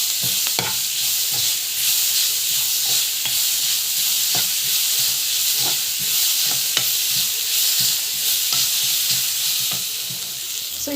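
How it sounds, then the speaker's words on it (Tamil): Grated raw mango sautéing in a hot pan for mango thokku, a steady loud sizzle and hiss with regular scraping stirs of a spoon throughout, no voices. "போட்டுட்டு நல்லா வந்து இது வதக்கிட்டுக்கோங்க."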